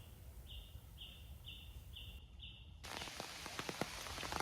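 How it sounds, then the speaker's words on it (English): Rain falling in Karura Forest, a steady broadband patter on leaves and ground that swells louder midway, with a few brief, repeated high tones early on and no talk. "See, it's raining."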